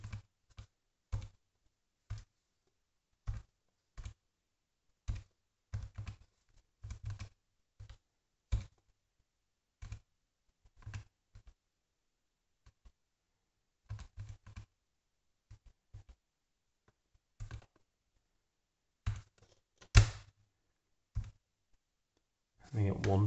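Buttons on a calculator are pressed one at a time while a maths exam problem is worked out, sparse crisp close-up clicks with quiet pauses between them, sometimes in short clusters.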